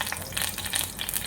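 Curry leaves crackle in hot oil for a tempering for kadhi with moong dal vadis, a dense, even hiss and sputter heard up close for a brief moment, with no voices.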